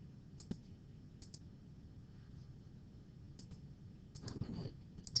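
Keypresses on a calculator keypad, a few sharp isolated clicks spaced out over several seconds against a quiet background hiss, with a short burst of rustle near the end.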